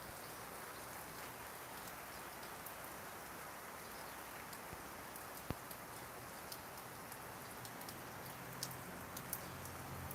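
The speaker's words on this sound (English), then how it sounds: "it is a shame it rained" Steady rain falling outdoors in early-morning Thailand, a faint continuous hiss with scattered light drops and ticks, no voices.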